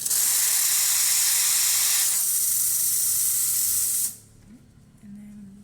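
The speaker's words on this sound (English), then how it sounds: "and then I'll show you the steam." Steam wand of a Rocket Appartamento espresso machine, recently serviced with adjusted pressure, hisses loudly and steadily for about four seconds, thins slightly midway, then cuts off, leaving a faint low hum.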